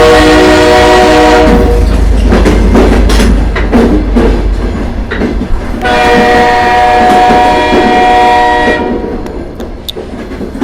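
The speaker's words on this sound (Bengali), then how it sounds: "পৌঁছানোর কিছুক্ষণের মধ্যেই ট্রেনটা ঢুকে গেল" Cartoon-style sound effect of a train pulling into a station: a loud, steady rumble with sustained horn tones that sound twice, once early and once midway. No one speaks.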